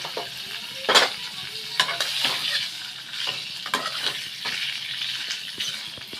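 Paneer frying in a kadai, a steady bright sizzle broken by repeated sharp scraping and clattering strokes of stirring, close and moderately loud.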